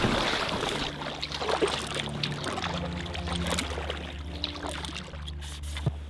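Pack raft paddles dip and stroke through water on a trip toward a glacier valley in Patagonia, giving a steady, close wash of splashes and drips with no voices.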